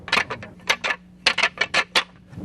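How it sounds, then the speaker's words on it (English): Rapid clattering and clacking bursts of two deer fighting, antlers knocking and rattling together in quick irregular clusters, close and fairly loud. "That's the sound of two deer fighting."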